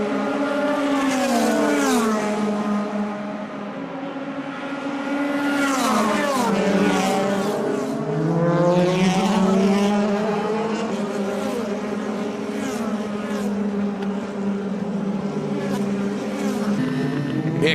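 DTM race cars, including a BMW and Timo Glock's car, roar past during an overtake, with loud, sustained engine notes rising and falling in pitch as they pass, the sound steady and close throughout.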